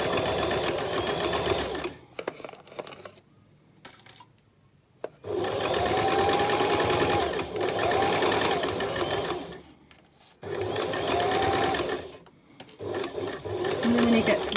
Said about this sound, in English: keeping that stitch line straight, stitch all the way along.